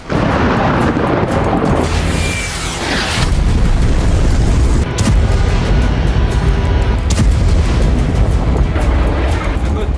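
Bombing explosions in Beirut, Lebanon, roar as a loud continuous rumble with deep booms, one sweeping rush of noise and several sharp bursts layered over heavy sustained blast noise throughout.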